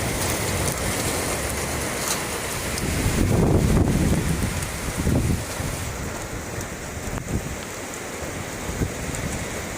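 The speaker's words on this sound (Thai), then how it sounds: "ลมฝนฟ้านะครับ" A strong wind and rain storm roars steadily, with gusts buffeting the microphone and a heavier surge in the middle, rain hissing throughout with no voices.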